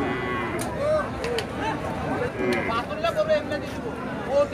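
At a crowded cattle market, a Friesian cow gives several short moos amid a steady babble of voices and people talking nearby.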